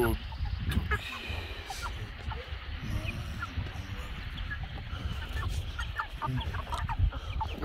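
A flock of chickens at a ranch clucking and calling continuously over outdoor ambience, several birds close by with overlapping clucks throughout.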